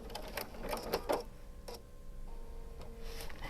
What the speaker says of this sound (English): We're going to sew up to my point and not over it. And then we're going to do a little bit of a back stitch